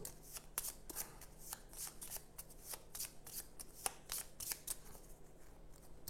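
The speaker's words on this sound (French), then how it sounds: "j'ai une carte en main, donc je vais mélanger ma défausse" A discard pile of Nemesis board game cards is shuffled by hand, giving a series of quiet, quick riffling bursts in an otherwise hushed room.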